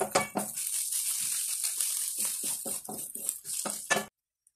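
Ginger, garlic and chopped green chili frying in a pan for okra masala, with a steady light sizzle and scattered clinks of a utensil against the pan, stopping abruptly near the end.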